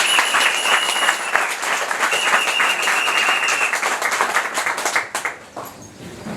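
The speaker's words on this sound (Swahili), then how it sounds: "Kwanza ningewaomba mumpigie makofi mote President Evariste." An audience at a football club meeting claps for a club president in a dense, loud burst of applause that holds steady, then thins out and fades near the end.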